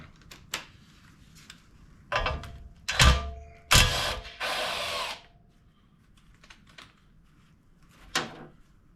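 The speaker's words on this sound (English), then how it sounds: "I'm going to go ahead and unbolt" Ratchet and tool work loosening the motor mount bolts on a Yamaha G1 golf cart comes in short bursts of clicking and grinding, several separate loud spurts with quiet gaps between them.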